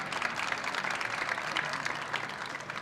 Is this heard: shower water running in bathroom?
no